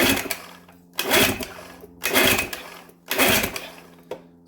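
A Johnson 9.5 outboard engine pulled over by its starter rope, four loud rhythmic bursts of broadband whirring about a second apart with a steady hum beneath.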